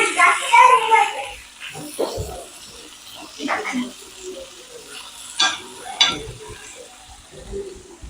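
Fish frying on a tawa, a soft crackling sizzle with a few scraping knocks and brief clatters, fairly close, with faint background sounds.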